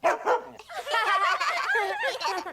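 Cartoon dog barking on command, a couple of short yips first and then a longer run of excited, whimpering barks and vocal yelps, near and clear, with no talk over it.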